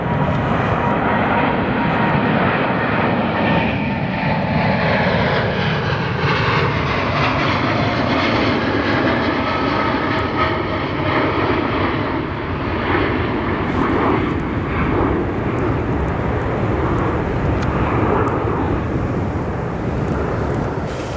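A heavy jet departs O'Hare International Airport at night, its engines producing a loud, steady broadband roar that fills the whole stretch without letup, with the tone slowly shifting as the aircraft climbs away.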